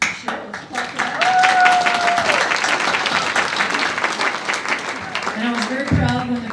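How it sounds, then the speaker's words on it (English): Applause from an audience at a 30-year celebration of a peace and justice center in Albuquerque, a loud, dense burst of clapping that swells and holds, with a voice briefly audible over it and talk returning at the end. "Sure, let's clap for that."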